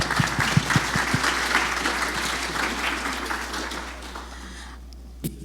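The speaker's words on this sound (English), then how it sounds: "Let's all put together a round of applause for the team here." Applause from a business panel audience for the team on stage, a few loud nearby claps standing out at first, then fading into quieter scattered clapping over a low background hum.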